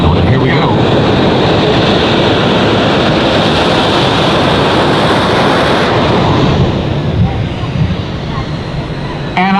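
An F-18 fighter jet makes an afterburner pass at the 2015 Miramar Airshow, a loud, dense, sustained roar that fills the whole clip and eases off slightly near the end.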